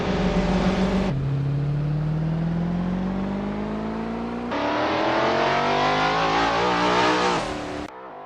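A race car engine in a racing video game, near and loud, holds a steady rising whine as it accelerates, drops pitch at a gear change and climbs again before cutting off abruptly near the end.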